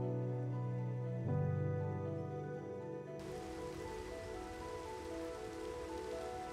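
Steady rain falls in the Minecraft video game, a soft continuous hiss layered over a low droning tone that drops away partway through.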